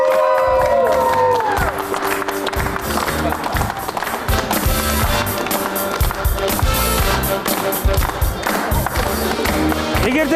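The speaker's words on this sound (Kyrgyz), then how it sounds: "Анда сиздерди эфирден узатып коелу кол чабуулар менен." A television studio audience applauds at the close of a talk show, a dense, steady wash of clapping and cheering mixed with loud music.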